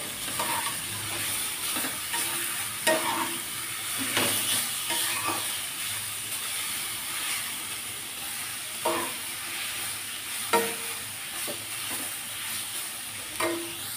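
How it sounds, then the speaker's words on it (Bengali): Vegetables, including eggplant, are stirred together in a sizzling pan, with a constant frying hiss broken by repeated scraping and clattering strokes of the spoon, close and without talk. "এবারে আমি সবকে একসাথে একটু নাড়বো, নেড়ে জল ঢেলে দেবো।"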